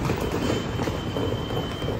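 Train at a station in Vancouver, a short steady low rumble with a faint high whine, moderately loud and continuous with no voices.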